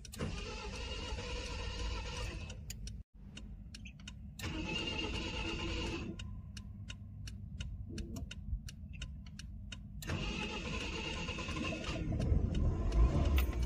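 A hot car engine during a heat wave cranks repeatedly in bursts, with rapid ticking clicks between attempts, before it catches and runs with a steady idle.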